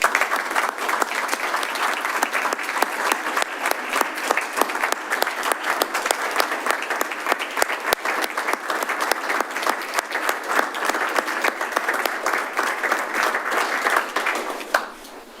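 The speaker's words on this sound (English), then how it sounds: "please join me in a round of applause to celebrate him" A long round of audience applause at a Wilsonville city council meeting honoring Wayne, a roomful of clapping with distinct individual claps that stays strong for about fifteen seconds before stopping abruptly.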